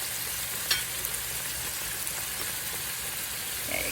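Carrots go into a pan of simmering pancit with cooked shrimp and garlic, giving a steady, moderately loud sizzle with a brief clatter as they drop in; no one talks.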